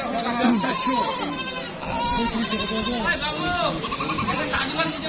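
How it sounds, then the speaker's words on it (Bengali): Many goats and sheep bleat over one another at a busy livestock market in Dinajpur, a dense chorus of overlapping calls under steady crowd chatter. "অনেক ছাগল, ছাগলের বাজার"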